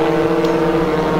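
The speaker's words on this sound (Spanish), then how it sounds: "Ahí vemos a Leonel, que sigue acelerando, acortando la distancia que hay entre él y Maro" Race car engine from a Copa Notiauto touring-car race at Moisés Solana, a loud, steady droning roar holding near and continuous throughout, with no voices over it.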